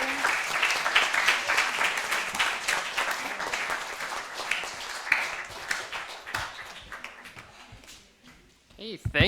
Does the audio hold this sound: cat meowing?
no